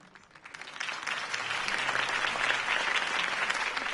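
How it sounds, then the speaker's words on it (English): Enthusiastic applause swells from a scattered start into a full, steady ovation from a large crowd in Batman: The Telltale Series, continuing at a strong level. "could have heard that applause"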